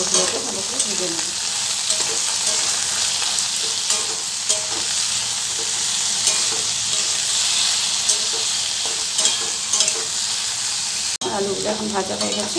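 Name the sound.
potatoes frying in oil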